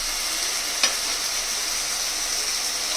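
Chopped liver frying with softened tomatoes in a pan gives a continuous, even sizzle, close by, with one brief knock of a utensil near the start and no voices.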